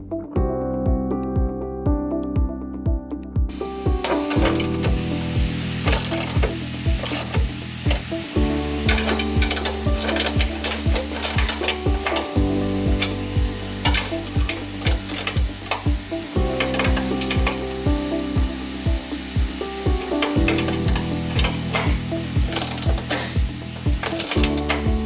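A hand ratchet snugs up bolts on a RAM Promaster running board, with a steady series of rapid clicking strokes in repeated rounds throughout, close and continuous.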